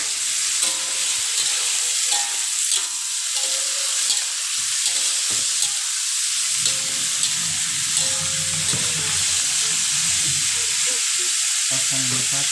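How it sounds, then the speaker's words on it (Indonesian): Kikil (beef skin) stir-fried with spices in a pan, a steady bright sizzle that holds loud and constant throughout, with faint clinks of stirring now and then. "Nah, setelah itu kita tumis-tumis kembali sampai semua bahan menyatu merata ya"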